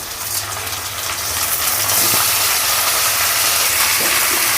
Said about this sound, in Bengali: এই দেখুন মাটনটা পুরোপুরি কিন্তু পেঁয়াজে ঢেলে দেবো